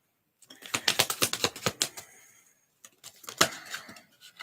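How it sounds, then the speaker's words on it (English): Tarot cards are shuffled in rapid bursts of riffling clicks, close and crisp, with a short pause before a second shorter flurry. "Bad shuffling."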